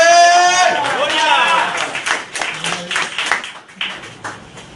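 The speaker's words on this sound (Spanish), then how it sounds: "Dale un aplauso al Señor por eso" A church congregation claps rhythmically after a preacher's sermon, sharp uneven claps building over a few seconds while voices call out and a strong voice speaks at the start.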